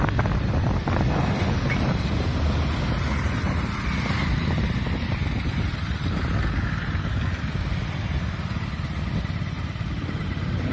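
Riding a motorcycle at 20 to 30 km/h along a town road, with constant loud wind rushing over the microphone and a low engine rumble underneath throughout.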